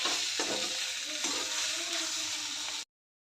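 Village-style okra mixed with crushed peanuts cooks over steam in a covered pan, giving a steady, close sizzle and hiss that runs evenly for almost three seconds before cutting off.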